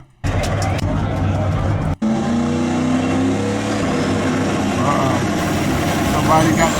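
Drag racing car engine with a spooling turbo, loud and sustained with rising harmonic whine, heard over crowd noise and people talking at a donk racing event.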